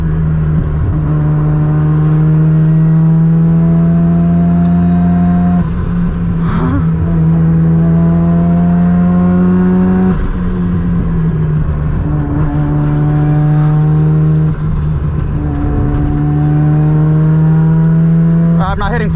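A turbocharged Mazda RX7, heat-soaked in 100-degree weather, accelerates hard on an uphill touge run. Its engine note climbs steadily and loudly, dropping at several gear shifts before rising again.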